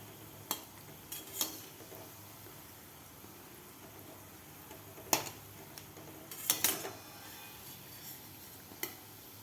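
Balushahi being lifted out of frying oil, a soft steady sizzle under scattered metallic clinks and scrapes of a slotted spoon against the pan, close and quiet with no talk.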